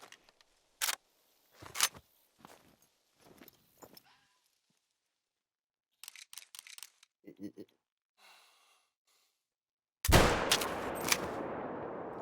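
Rifle shots fired at a target outdoors, heard as several sharp, loud cracks spaced a second or so apart, with quieter scattered sounds in between, then a burst of harsh, sustained noise near the end.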